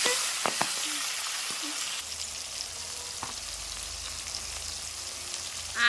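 Tomatoes and green peas fry in a pan, with a steady sizzle and soft crackle running throughout, a few spoon taps or stirs early on, and a low hum joining midway.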